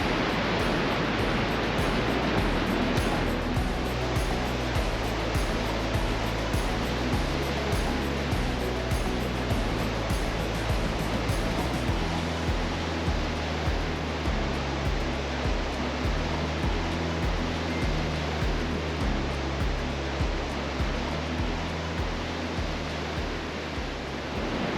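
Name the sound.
Blumenthal Falls waterfall and ocean surf on Oregon coast beach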